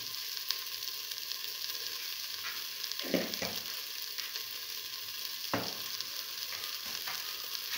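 Egg seasoned with salt and turmeric powder sizzles in a pan while being stirred, a steady quiet fry broken by a few sharp scraping strokes of the spatula.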